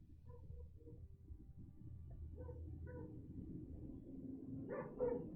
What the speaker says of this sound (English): Oh, my dog's going crazy over something.